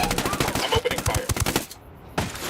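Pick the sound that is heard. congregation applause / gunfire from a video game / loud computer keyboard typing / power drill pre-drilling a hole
gunfire from a video game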